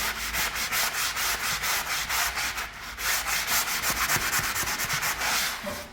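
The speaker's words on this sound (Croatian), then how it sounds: "brusim ručno sa ovim šmirglom" Sandpaper, abrasive on all sides, is rubbed by hand over a freshly skim-coated plaster wall, giving steady rhythmic rasping strokes, close and continuous with no talking.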